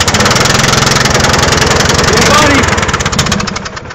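Craftsman lawn tractor engine running on choke after a cold winter start, a loud close rhythmic chugging idle that eases slightly toward the end, with people talking over it.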